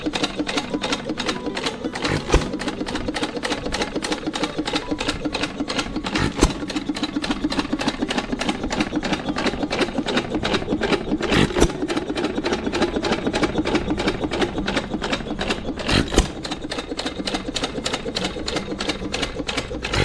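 A 1925 Wizard 1.5 hp gas engine runs steadily with a rapid mechanical clatter, close and loud, with a few sharper periodic firing bangs every few seconds, no voices.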